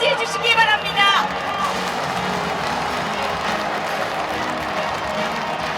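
A large hall audience at a party presidential nominating convention applauds to welcome candidate Moon Jae-in. Dense, sustained clapping and crowd noise run throughout, and an announcer's voice is heard briefly at the start.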